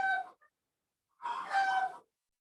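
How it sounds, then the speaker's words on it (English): A rooster crows: a brief call, a pause, then a longer, strained crow, moderately loud against otherwise silent surroundings. "thank you to your rooster who's also accompanying your answers"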